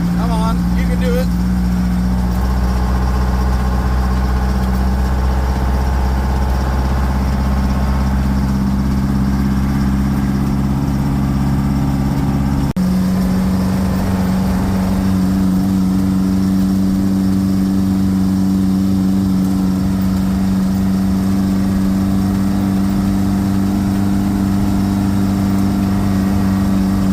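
Detroit Diesel engine on a test run, idling steadily with a loud low drone that shifts pitch partway through as it settles into a higher steady hum, with some talking over it.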